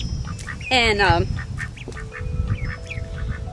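Four-week-old farm ducks squawk and quack while being handled, with one loud harsh call followed by softer scattered cries nearby, under a person speaking.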